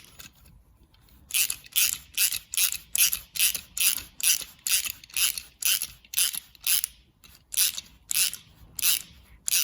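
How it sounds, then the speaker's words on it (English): A ratchet wrench opens an exhaust clamp on a VW T4 Transporter Multivan, making about eighteen loud, evenly spaced bursts of clicking, close up and alone, each crisp pawl rattle separated by a short pause. "Now I get the ratchet and open the"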